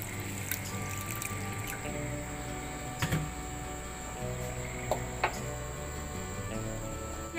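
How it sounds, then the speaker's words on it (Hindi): Water poured into a frying pan holding small pieces of jaggery gives faint drips and trickles with a few soft taps, quiet and unaccompanied by talk. "और एक कप ही हम इसके अंदर पानी ऐड करेंगे।"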